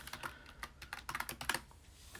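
Quick, irregular clacking of keys on a computer keyboard as text is typed, a close, crisp run of taps with short pauses, no voices.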